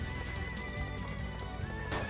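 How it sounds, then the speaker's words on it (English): In Wild Arms 3, a horse's neigh rings over hoofbeats and busy game sound effects. The whole stretch is loud and steady, with a brighter whinny swelling near the end and no voices. "That poor horsey, man."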